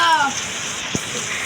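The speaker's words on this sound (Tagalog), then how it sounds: "Grabe yung ulan." Steady broadband hiss of heavy rain fills the clip, with a brief voice at the start and a single dull thump near the middle.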